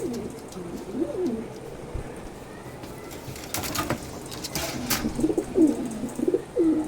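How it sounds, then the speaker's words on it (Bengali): Several pigeons coo in soft, repeated rolling phrases, fairly close, with a few sharper rustles or wing-like bursts midway and growing busier toward the end; no talking. "খুবই সুন্দর 4টা কবুতর, দেখেন, দেখতে খুবই সুন্দর"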